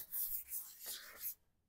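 Brisk scratchy rubbing of sandpaper over a truck surface in several quick strokes, close by, then stopping abruptly.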